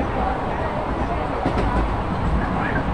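Constant low rumble and rattle inside a moving passenger train, with voices talking over the steady noise.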